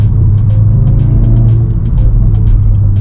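A VW Golf R Mk7.5 with four-wheel drive and standard exhausts accelerates hard, its loud, steady engine roar close by, with sharp crackling pops rising over the drone through the whole stretch.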